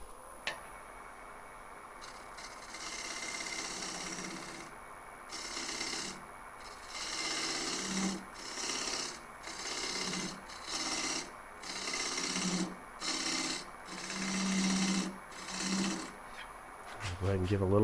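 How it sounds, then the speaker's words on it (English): A wood scraping tool works a box elder burl during hollowing, giving repeated rasping strokes in a steady rhythm of short bursts, close and moderately loud, with a faint high whine from the lathe underneath. "Go ahead and give a little bit of a light scrape here."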